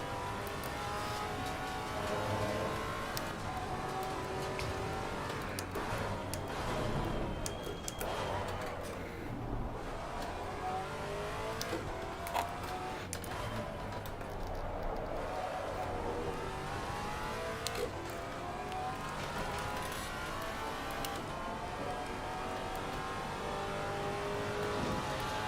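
Maserati GT4 race car engine on the Indianapolis circuit in Assetto Corsa Competizione, droning steadily throughout with rising and falling revs through gear changes, a continuous close in-car roar.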